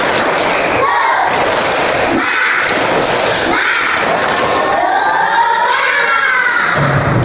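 Students in a classroom perform a rhythmic spirit clap chant, loud group claps and shouted voices pulsing in a steady beat close by, with crowd noise throughout.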